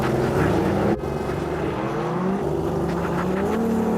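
Lamborghini Urus and Ferrari Purosangue SUVs launching side by side off the line in a drag race, a loud, sustained roar of engines that dips for a moment before building again as they accelerate.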